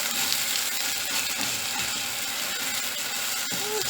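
Sliced onion and grated garlic frying in a pan for a stewed chicken liver dish, a dense, even crackling sizzle throughout with a faint clink near the end.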